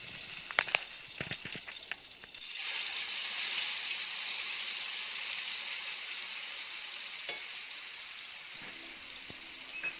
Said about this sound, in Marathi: आता आपण पॅनमध्ये कांदा टॅमॅटोची प्युरी ॲड करणार आहे.